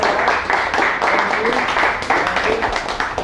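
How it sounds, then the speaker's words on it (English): Audience applause at a talk, a steady patter of clapping with a few louder claps, partly mixed with voices speaking over it. "Let's give him applause"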